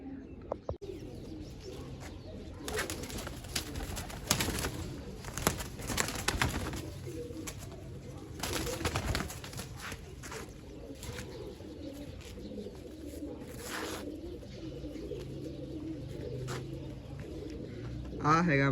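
Pigeons cooing softly in a loft, low faint coos scattered through a long stretch of background noise, with a voice speaking now and then.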